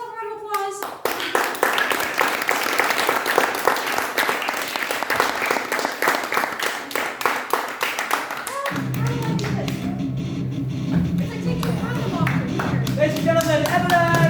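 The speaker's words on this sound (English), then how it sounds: "Give yourself a round of applause." Comedy show audience breaks into loud, sustained applause with dense clapping, then the clapping thins as cheering voices and chatter take over near the end.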